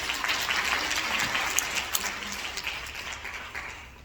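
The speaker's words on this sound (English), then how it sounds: "Can we give Durga a round of applause?" An audience at a community women's gathering applauds after a presenter's exercises, a steady, moderately loud patter of clapping that slowly thins out.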